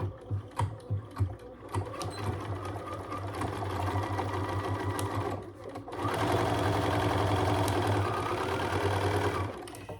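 A sewing machine stitches a wallet seam, starting in short bursts before running in a steady, continuous whir, close and moderately loud.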